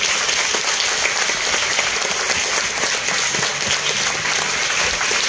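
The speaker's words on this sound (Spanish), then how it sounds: "darle un sonoro aplauso de gratitud" A book launch audience claps in a dense, continuous round of applause, steady and even in loudness from start to finish.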